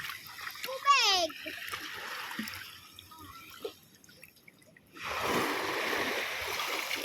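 Water splashes at a beach: a child squeals over soft splashing early, then a steady, rushing wash of water swells up near the end, with voices talking quietly throughout.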